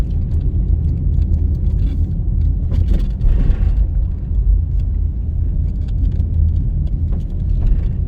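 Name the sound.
car driving on road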